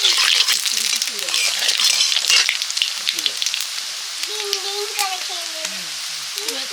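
Nigella seeds sizzle and crackle in hot mustard oil for a Bengali fish curry, a bright steady frying hiss with faint pops, fading slightly while a soft voice speaks over it.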